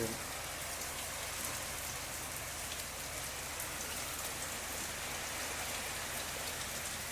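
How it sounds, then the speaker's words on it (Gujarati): Steady, dense rain patters on a surface all around, an even hiss with no pauses and no voices. "4 વાગ્યાનો વરસાદ ચાલુ છે"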